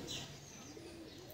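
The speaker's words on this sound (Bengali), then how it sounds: "নতুন কালেকশনের পায়রা, মাদি পায়রা মনে হচ্ছে" A white female pigeon coos softly, with a low, faint, rolling call heard close by amid quiet background noise.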